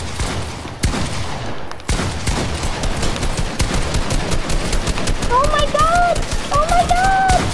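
A golden pump shotgun fires in the Fortnite video game, with rapid bursts of gunfire and sharp blasts crowding the mix alongside other game sounds, as a player talks excitedly over them.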